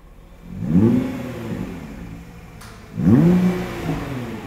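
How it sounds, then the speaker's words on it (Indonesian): A Nissan GT-R Track Edition engine in R mode revs twice up to a soft limiter, each sharp rise falling back to a smooth, close idle. "Coba kita gas ya, kita pengen dengar suaranya."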